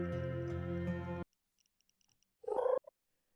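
A cat in a video game purrs steadily in a low continuous rumble, then falls silent before a brief higher cat-like sound.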